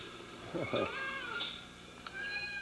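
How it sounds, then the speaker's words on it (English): A cat meows a few times in a radio studio during a live production, the cries rising and falling over a faint background hum with some muffled voice-like sound. "And Roy, we told you to keep them cats out of the studio while we're in production here."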